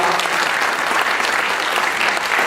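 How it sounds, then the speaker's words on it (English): An audience at a county candidate forum in a high school claps in sustained, dense applause throughout, steady and fairly loud, with no one speaking over it. "will you help me in applauding our timekeeper, Sal?"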